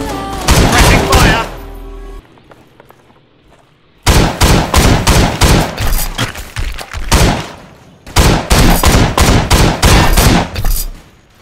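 Rapid bursts of MAS-40 rifle fire in the World War Heroes game crack out loud and close, in dense volleys separated by a quiet reloading gap, with some game noise between.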